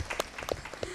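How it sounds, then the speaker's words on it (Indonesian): Applause from an audience at a community dance performance in Cilacap, Indonesia, a brief, faint patter of clapping mixed under a speaking voice. "sekali lagi tepuk tangan yang meriah."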